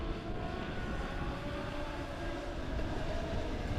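Race cars at Springfield Raceway roaring together at the green flag, a dense continuous engine drone from a distance, steady and unbroken.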